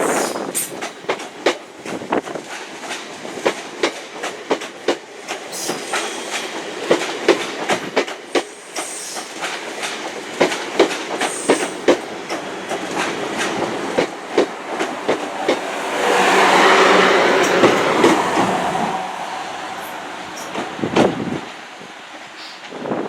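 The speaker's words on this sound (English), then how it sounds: "class 444 Desire unit leaving Waterloo, going to... no, leaving Weymouth to go to Waterloo" Class 444 Desiro electric unit departing Weymouth station bound for Waterloo: rhythmic clickety-clack of wheels over rail joints, a rising rumble and rushing wind as carriages pass close by, fading away at the end.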